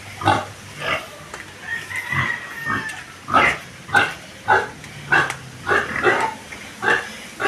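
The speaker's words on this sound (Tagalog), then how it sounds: "Mga baboy." Pigs grunt and oink outdoors in a rhythmic series of loud, close snorts spaced about half a second apart, continuing steadily.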